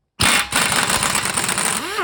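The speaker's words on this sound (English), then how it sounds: "next we're gonna remove the tie rod end here. It's a 21mm deep socket. We'll see if we can break it loose here." A 21mm deep socket on a power tool breaks loose a tie rod end on a 2019 Ford F-150: an abrupt start, then a loud, close, continuous rattling buzz for nearly two seconds.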